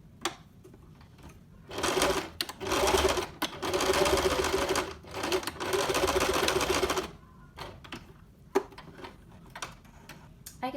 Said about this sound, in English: I'm going to stitch pretty close to the edge, about half a centimeter from the edge.